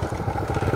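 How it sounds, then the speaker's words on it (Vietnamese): A motorcycle ridden by a blind man on a road in Ha Giang, its engine running loud and close with a steady, slightly rough mid-pitched drone and no talk over it. "nhưng mà anh là vẫn còn đi được xe máy"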